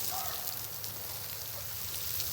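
A garden hose sprays water over vegetable beds where kohlrabi is planted, a steady close hiss of droplets pattering on soil and leaves that runs without a break.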